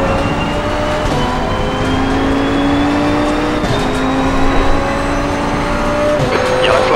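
2021 KTM X-Bow GT2 race car lapping Mount Panorama Circuit in Australia, its engine loud and close as it climbs through gears in repeated rising whines broken by quick shifts, with faint tire noise.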